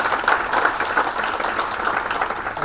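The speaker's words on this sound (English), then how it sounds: "can I have a big round of applause for the 10 contestants that are here today?" An audience claps for contestants at a speaking competition final, a short burst of steady, dense applause at moderate loudness.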